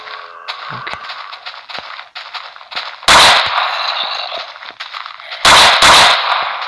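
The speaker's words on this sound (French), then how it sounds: "On a déjà un petit pistolet qui est assez bien." Pistol gunshots from a gun mod in Minecraft PE, a video game. A few loud, abrupt bursts cut through a background of lighter clicking and game noise.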